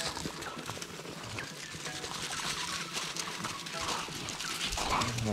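Pit bull puppies whimpering and scrabbling around, faint squeaky whines and pattering amid rustling, with a person talking over them.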